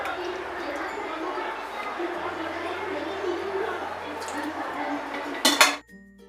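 A lid set down on a cooking pot of rice in a home kitchen: soft kitchen clinks and rustling build to one sharp metallic clatter near the end, then a brief near-silence.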